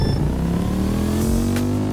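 Honda Vario motorcycle engine revving in the Roblox game Drag Drive Simulator, a loud, steady engine drone that climbs slowly in pitch throughout.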